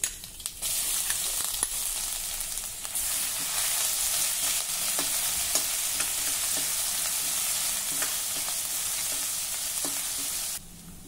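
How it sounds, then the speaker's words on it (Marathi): Mustard seeds, cumin, crushed garlic and ginger sautéing in hot oil, giving a continuous close crackling sizzle with scattered sharp pops throughout, then stopping abruptly near the end. "आलं लसूण हलक्या तांबूस रंगावर परतून झालं।"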